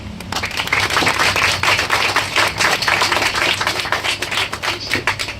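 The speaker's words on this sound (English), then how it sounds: "Please big round of applause for him." An audience at an institute event claps for the director, a dense, lively patter of many hands that stays strong and even and then trails off slightly at the close.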